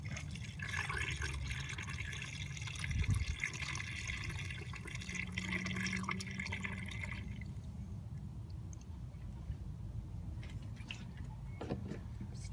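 Recycled coolant is poured into the radiator of a 2004 Pontiac Grand Prix during a thermostat job, a steady close liquid rush and gurgle that thins out partway through, followed by quieter drips and a few small clicks.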